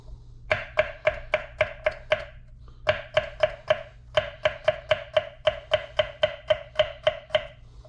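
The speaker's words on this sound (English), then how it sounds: "Make sure you watch your fingers while cutting your peppers and everything" A knife chops peppers on a cutting board in rapid, even strokes, loud and close, with two bursts of steady chopping split by a short pause.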